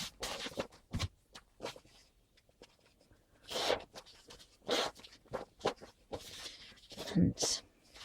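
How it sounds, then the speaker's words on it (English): Repositionable tape being rubbed off paper with the fingers, heard as a series of short scratchy rubbing strokes in irregular bursts, close and fairly quiet. "I have some repositionable tape that I have to just rub off."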